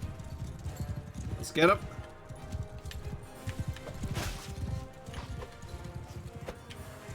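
Horse hooves pound in a gallop among horse archers in Mount & Blade II: Bannerlord, with one sharp impact early on, under someone talking.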